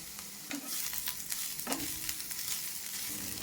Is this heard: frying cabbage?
yes